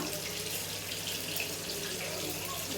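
Water poured into a pot of seeraga samba rice and sautéed chicken for chicken biryani, a steady, continuous splashing gush lasting throughout, close and alone.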